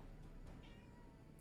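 A short, faint cat meow or two inside the game Final Fantasy XIV, soft and brief against a quiet background.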